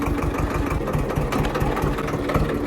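A tractor engine runs steadily while a rotary tiller breaks up hard ground, giving a loud, continuous low mechanical rumble with a rhythmic pulsing throughout and no talk over it.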